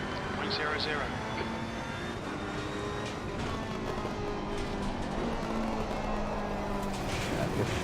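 A GT3 race car engine drones continuously at Monza in a racing game, a steady loud whine with no clear gear changes.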